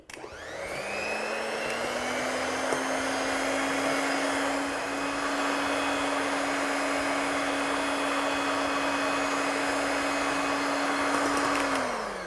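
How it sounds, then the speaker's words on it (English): An electric mixer beats chocolate mousse toward soft ribbons, a loud steady motor whine that spins up at the start and runs unbroken for about twelve seconds before cutting off. "we have this mixer and you're not having to like churn this by hand"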